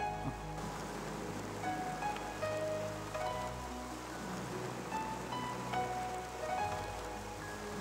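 Rain falls in a steady, even hiss with faint scattered drips, moderately loud and continuous, and no voices.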